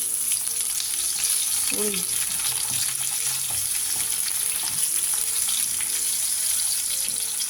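Onions frying in a pan while bitter gourd (ampalaya) is being cooked, a steady close sizzle with stirring scrapes running throughout, and a brief voice exclamation near the middle.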